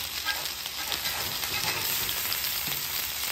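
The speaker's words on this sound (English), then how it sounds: "You put it on the griddle, you wait for that crust to build" Ground beef sizzles on a hot griddle as its crust builds, a steady dense crackle and hiss with no talking.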